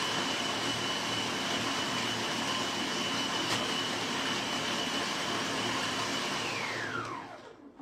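ALL COOK food processor robot running at speed 12, a loud steady whirring motor drone with a high whine that holds throughout, then winds down and stops near the end.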